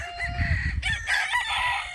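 A rooster crows once, loud and close, over a low rumbling background on a mountain farm.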